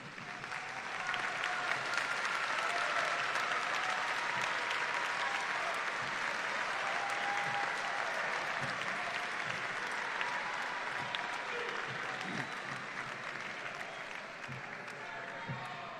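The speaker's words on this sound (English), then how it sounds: "give them a round of applause" A large crowd applauds steadily in an arena at a 2021 high school graduation ceremony, a broad, even wash of clapping heard from a distance and held for the whole stretch at moderate volume.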